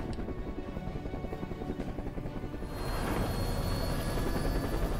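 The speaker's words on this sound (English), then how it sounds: "I'm gonna board a helicopter." A helicopter in the video game Alienation on PS4 sends out a steady, rapid rotor thump that grows louder and fuller about halfway through.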